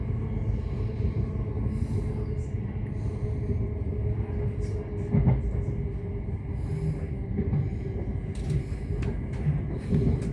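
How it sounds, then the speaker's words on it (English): A steady low rumble of a train just outside the railway station in Royston, Hertfordshire, a continuous rolling drone with faint clanks and passing movement at moderate distance. "I've just arrived in Royston here, just outside the train station there."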